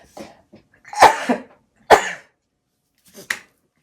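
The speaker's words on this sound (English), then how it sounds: "I'm going to sneeze." Three sharp bursts spaced over a few seconds, each a sudden loud expulsion of breath, the middle two strongest and the last shorter and quieter, close to the microphone in a quiet room during acrylic paint pouring; one could be a sneeze or cough.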